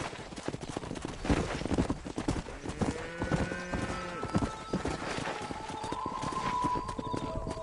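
Video game horse hooves clip-clop steadily on the ground while herding, close and continuous, with a horse whinnying partway through.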